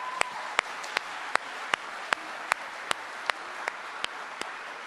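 A preacher claps alone during a church sermon, about a dozen sharp, evenly spaced hand claps ringing out one by one over a quiet room.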